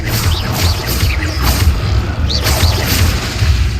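Repeated Confringo explosive spell blasts in Hogwarts Legacy go off amid a busy, loud game mix, with deep booming thuds and whooshing bursts recurring every second or so throughout.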